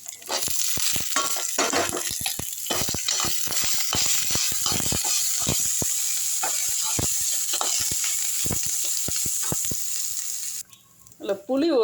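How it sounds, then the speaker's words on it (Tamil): Onion, ginger, garlic, dried red chilli, coconut, coriander and curry leaves sauté in a pan for a lentil chutney, with a steady loud sizzle and frequent scraping stirs that stop abruptly near the end. "எல்லாத்தையும் போட்டு வதக்கணும்."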